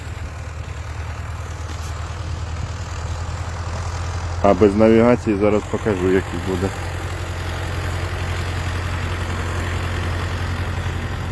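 A tractor engine runs steadily in a potato field during planting, a low continuous idle-like drone throughout, with someone speaking briefly over it midway.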